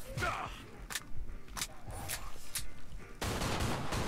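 Killing Floor 2 shooting in a shopping mall, several sharp, loud gunshots spaced irregularly, then a sudden dense burst of rapid fire near the end, with a voice speaking over the action.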